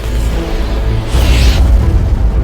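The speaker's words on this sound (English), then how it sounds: "The well erupted, and a magical explosion rocked the cave" A deep, rumbling boom from a magical explosion shaking a cave in the Lost Chronicles game, with a low roar throughout and a brief whooshing swell midway.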